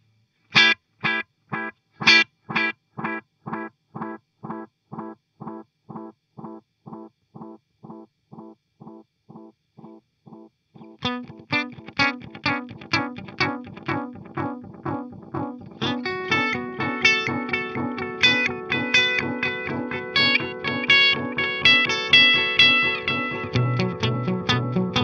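Electric guitar through a Mooer Reecho delay pedal with feedback pushed high: evenly spaced plucked notes repeat in a decaying rhythmic trail, then denser strummed phrases pile up into a thick, self-layering wash of echoes.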